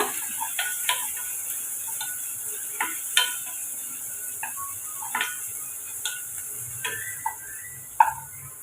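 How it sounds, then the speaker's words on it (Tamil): Two chillies are sautéed lightly in a pan with onion for a vegetable kurma, producing a soft, faint sizzle broken by scattered light ticks and clicks of a utensil. "ரெண்டு மிளகாய் இப்போ நல்லா கொஞ்சம் லைட்டாக நம்ம வதக்கி எடுத்துக்கோங்க"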